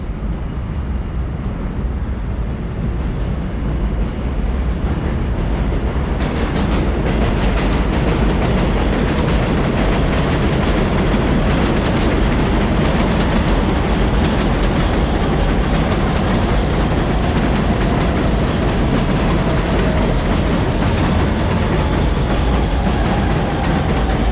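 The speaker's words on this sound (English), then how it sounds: "So here's a Ditmars Boulevard bound N train stopping at 36th Avenue station." An elevated N subway train roars loudly and continuously as it stops at 36th Avenue station in Queens, New York, wheels rumbling and rattling on the tracks, a steady heavy noise slowly shifting in pitch as it passes close by.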